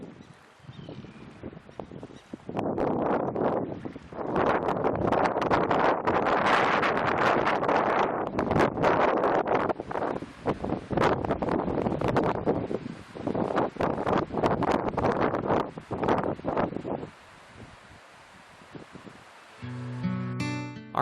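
Strong wind buffets the microphone at Maskell's Harbor on a Nova Scotia sailing trip, a loud roaring rumble in gusty surges that eases into a quieter hiss near the end.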